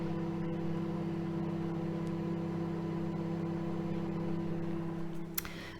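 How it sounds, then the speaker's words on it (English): A microwave oven melting butter and treacle runs with a steady, faint electrical hum and whir, alone and unbroken except for a brief click near the end. "I'm going to pop this in the microwave to melt the butter and the treacle"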